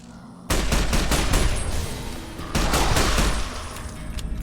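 Repeated gunfire from a video game gun in an irradiated area, a dense run of sharp shots in two loud bursts with a short gap between, close and sustained.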